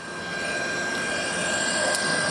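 A Citizen M-32V 10-axis CNC Swiss-type lathe's main spindle spins up with a steady machine whine, rising gradually in level with a sustained tonal hum and broadband mechanical noise, no talking.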